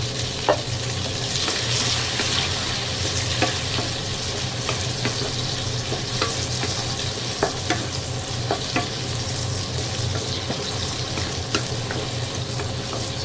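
Chopped tomatoes sizzling steadily in a pan of golden-brown garlic for a home-style ginisang gulay with pork, with a loud constant fry and scattered scrape and tap accents as the pan is stirred.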